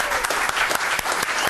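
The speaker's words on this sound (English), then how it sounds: "a very enthusiastic crowd for Alex Sink" An enthusiastic crowd applauds Alex Sink, a dense, steady wash of clapping that stays loud and close throughout the short moment.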